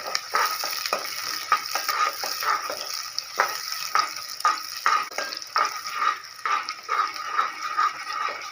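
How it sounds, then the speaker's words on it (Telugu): Chopped onions frying in hot oil for a fish curry give a steady, close sizzle with a run of small regular pops and crackles throughout. "ఆయిల్ అయితే వేడెక్కిందండి. ముందుగా ఉల్లిపాయలు వేస్తున్నాను."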